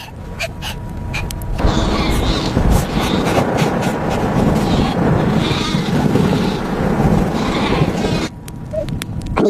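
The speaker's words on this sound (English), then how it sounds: "I need to see the sheep now." A flock of sheep bleats in a freezing blizzard, with loud, harsh overlapping cries under a strong, steady roar of wind that runs through most of the clip.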